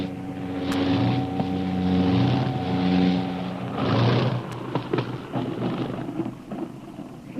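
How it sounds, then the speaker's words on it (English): A seaplane engine swells and fades in waves over a lake as it comes in to land, roaring closer then receding, with a whooshing rush near the middle and rumbling tones throughout. "the seaplane was about to land"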